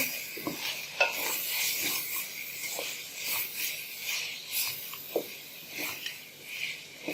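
Spices for beef keema karahi frying on high heat in a restaurant-style karahi, with a steady sizzle and repeated scraping stir strokes close by, no talk.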